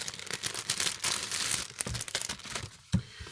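Crinkly plastic-and-paper wrapping of an orange-and-white gift wrapping set with pouches being opened, with sustained close-up crackling and rustling in irregular bursts and no speech.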